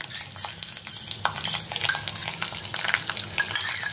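Coriander seeds dry-roast in a pan on a low flame, and the stirring makes a busy, close rattling and light crackle that carries on without a break.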